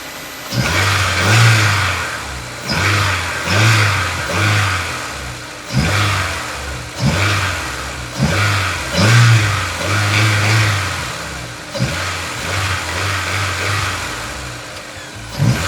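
A Honda S2000 fitted with an aFe Takeda cold air intake revs repeatedly from idle, each blip of its engine rising and dropping back in a steady rhythm of about a dozen close, loud pulls.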